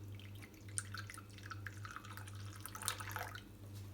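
Moka pot coffee trickles into a cup in a faint, steady dripping stream, with a low background hum underneath.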